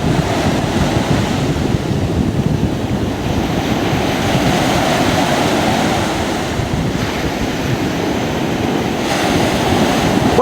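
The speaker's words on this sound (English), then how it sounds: "Will it get past the surf?" Ocean surf breaking steadily on a beach where a small robot boat is being launched, a continuous loud wash of waves with heavy wind buffeting on the microphone and no talk.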